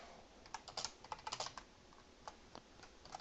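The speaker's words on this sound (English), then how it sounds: "I'm going to blame my keyboard for my horrible spelling." Keys clack on a computer keyboard in quick irregular bursts and scattered single taps, fairly close and alone with no voices.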